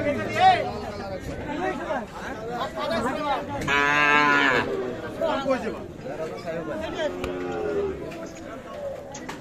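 Cattle, including Sahiwal bulls and calves, moo among a crowd of people talking at Ambari cattle market, with one long, loud moo standing out in the middle.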